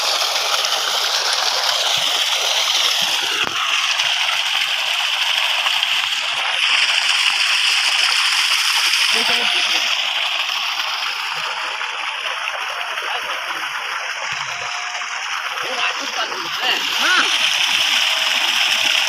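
Water gushes and splashes steadily from a newly connected electric motor pump, a continuous rushing spray with people talking nearby.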